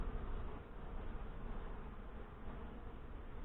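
Honey bees buzz at an open hive during a frame inspection of a colony headed by a Saskatraz queen. The hum is soft and continuous, with many insects droning together and no voices.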